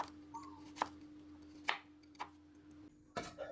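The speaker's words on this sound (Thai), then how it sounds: "ขิงแก่อีกประมาณ 20 กรัมครับ มาหั่นเป็น ฝอย ๆไว้ก่อนเลยครับ" About 20 grams of mature ginger is cut into fine shreds with a knife on a cutting board. A handful of sparse, crisp chops land irregularly over a low steady hum in a quiet kitchen.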